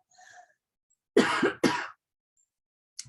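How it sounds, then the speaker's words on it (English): Two sharp coughs close together, loud and near, with a faint breathy sound beforehand and a brief click at the end; no talking. "Take a second to cough that out."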